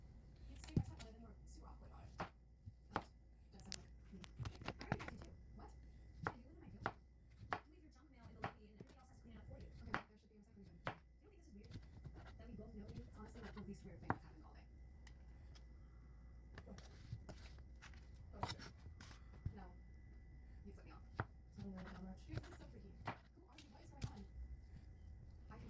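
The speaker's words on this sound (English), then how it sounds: "slice your mushrooms in it thinly" A knife slices mushrooms thinly on a cutting board, producing a steady run of soft, close chopping taps spread through the passage, with quiet kitchen background between strokes.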